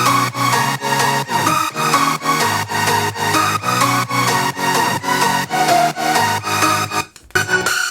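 Four layered synth leads joined by piano playing the melody in a track, a big roomy chordal passage pumping rhythmically with steady beats, loud and alone, briefly cutting out near the end before resuming.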